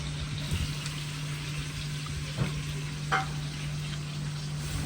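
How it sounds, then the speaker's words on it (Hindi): Garlic, ginger and onion paste fries in a mix of butter and oil, giving a steady close hiss with a couple of faint clinks, no voices. "फिर इसको ना अच्छे से फ्राई करेंगे जब तक ना इसका एक कच्चा स्मेल ना चल जाए"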